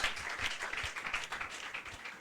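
A church congregation applauding: a faint, steady patter of many hands clapping together, somewhat distant and continuous for a couple of seconds.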